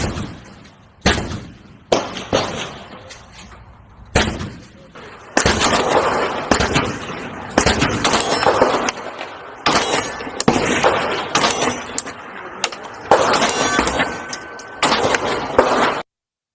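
Close, sharp pistol shots from a Taurus GX4 and GX2 fired at a target, first a few single cracks and then quicker strings of shots with short gaps between them.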